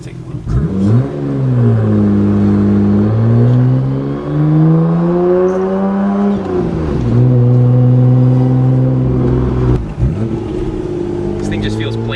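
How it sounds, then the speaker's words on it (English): Nissan Skyline GT-R R32 engine revving hard while driving, loud and close, climbing through the revs in long pulls with brief drops at gear changes around the middle and near the end. "we're gonna go for a spin in the R32 here"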